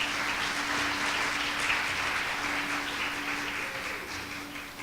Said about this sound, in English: How about a round of applause for our judges?